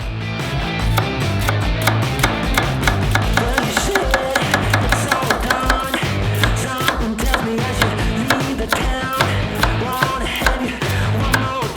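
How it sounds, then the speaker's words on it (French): A knife finely chops a leek rapidly and steadily on a cutting board, a dense run of crisp taps close by with no talking. "Ensuite, on a besoin d'un poireau. On le hache finement."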